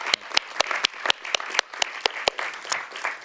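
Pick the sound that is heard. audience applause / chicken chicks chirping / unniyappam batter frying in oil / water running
audience applause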